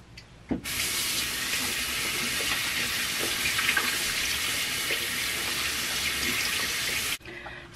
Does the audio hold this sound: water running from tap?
yes